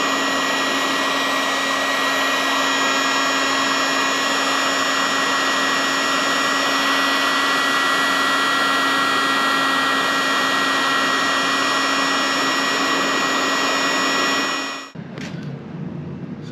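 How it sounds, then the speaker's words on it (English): A heat gun blows a steady, loud airflow with a constant whine onto faded plastic on an old Honda Recon ATV, running without a break before cutting off abruptly near the end, with no talking. "You can just use the heat gun and it'll bring that color back."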